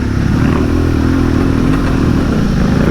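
A Pan America motorcycle on an enduro track with the rider standing on the pegs, its engine droning loud and steady, close up, with a clattering rumble throughout.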